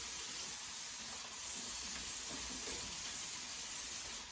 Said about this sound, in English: So I put some vegetable spray in the crock pot.